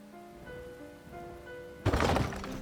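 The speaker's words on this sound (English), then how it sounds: "I don't know why it's raining. It's always raining." Rain in the video game Enshrouded, starting abruptly as a dense hiss of falling drops that swells up loud over a faint tonal background.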